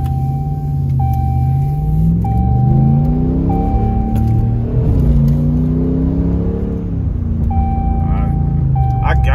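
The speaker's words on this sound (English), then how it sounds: "And I'm hearing, you know, the cold air intake notes." A Ram pickup fitted with a Rough Country cold air intake accelerates hard on a road, its engine note rising and falling through gear changes, loud and close from the driver's seat, with a voice speaking over it.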